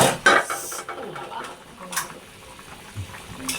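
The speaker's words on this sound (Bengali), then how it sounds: "বিশ মিনিট পর আমি ডাকনাটা তুলে নিলাম" A lid is lifted off a cooking pot of simmering beef lung bhuna, giving a bright metallic clink at the start followed by soft bubbling and a few small clatters.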